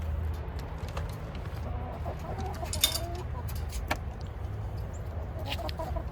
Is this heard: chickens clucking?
yes